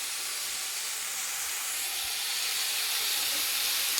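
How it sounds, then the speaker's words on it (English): Minced meat sizzles in a frying pan with a steady, loud, close hiss that stays even and unbroken from start to finish. "We have some minced meat frying there, minced meat."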